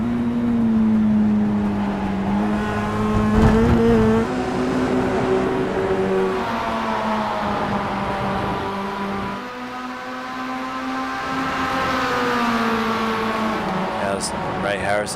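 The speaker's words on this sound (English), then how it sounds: "Much smoother sounding 2010 MX-5 Cup car." A 2010 Mazda MX-5 Cup race car engine at Donington Park, smooth and steady with rising and falling revs through the gears, sustained loud throughout with other cars nearby and talk over it.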